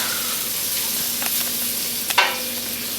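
Shrimp and seafood seasoned with cumin and basil frying in a pan, a continuous close sizzle with a few soft stirring scrapes and one sharper clink near the end.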